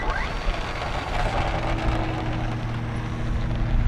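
An E-flite Twin Otter RC model plane taxis out at a model aviation day, its steady electric motor whine humming on and off over outdoor wind and airfield noise.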